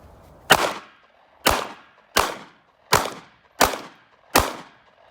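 Six sharp gunshots from a Kimber EVO SP pistol, loud and close, each cracking report decaying quickly, fired at a steady pace about one per second outdoors.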